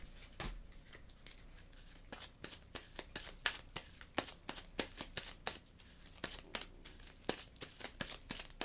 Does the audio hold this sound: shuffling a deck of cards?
yes